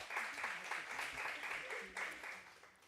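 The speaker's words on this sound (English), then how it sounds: "And a round of applause, please." Audience applause at a women-in-leadership conference, steady clapping from a moderate crowd with a few voices mixed in, fairly faint and continuous throughout.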